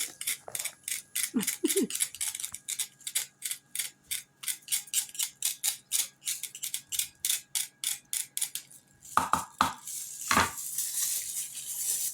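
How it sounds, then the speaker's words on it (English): A knife rocks back and forth over fresh garlic cloves on a cutting board, making a fast, even series of crisp tapping strokes, close up, followed by a few louder knocks and scrapes at the end. "we're going to rock this garlic until it's all done"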